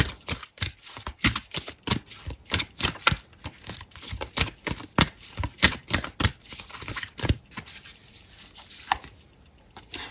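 Tarot cards being shuffled make rapid dense riffling and slapping, close and loud, then a few slower slides and taps as a card is drawn, with no talk.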